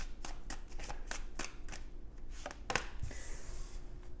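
Tarot cards being shuffled and drawn for a reading, a run of quick papery riffles and soft slaps close by, ending in a brief sliding rustle.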